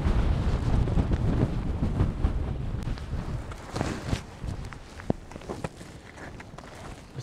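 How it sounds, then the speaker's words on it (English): Steady wind buffets the microphone on an upland hike in Kentmere, Lake District, a broad rushing roar with gusts, plus scattered crunching footsteps and knocks. "it's really windy"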